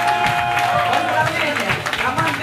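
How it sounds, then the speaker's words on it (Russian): Audience applause at a televised talent show, continuous clapping with crowd noise and music underneath, fairly loud and steady throughout. "Аплодисменты."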